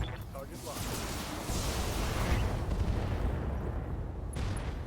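Mechs in a Battletech battle fire missiles in a dense, rumbling barrage of launches and impacts that builds over several seconds, fairly quiet overall.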